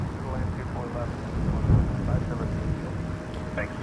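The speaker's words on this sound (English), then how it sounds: "That's a 747-400 with that one." A Boeing 747-400 freighter at Toronto Pearson Airport gives off a steady, heavy low rumble that swells slightly midway, with a person talking over it.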